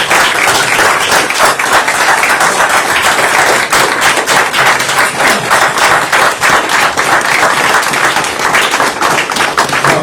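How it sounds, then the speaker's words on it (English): Sustained applause from a council meeting audience, dense and steady clapping filling the room for the full stretch without pause. "Let's give them all a round of applause"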